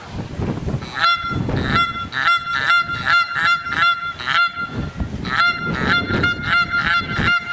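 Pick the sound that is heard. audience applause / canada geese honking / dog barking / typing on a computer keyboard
canada geese honking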